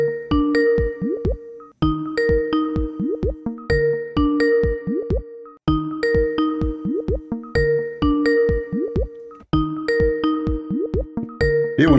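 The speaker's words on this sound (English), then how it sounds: "Otherwise, the Skype will not ring." A Skype call ringtone repeats in a steady looping pattern, each cycle a cluster of bright chiming tones with quick upward sliding notes, loud and close, with short gaps between rings and no one talking over it.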